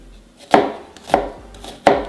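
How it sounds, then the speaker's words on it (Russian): A knife chops through a small onion on a board, making three sharp, evenly spaced thuds with no talking. "небольшую головку лука,"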